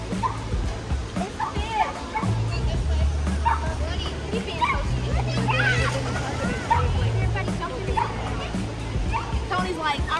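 A small dog barks, yips and whimpers at the water's edge of a lake on its first time going in, with repeated sharp yaps close by under ongoing conversation.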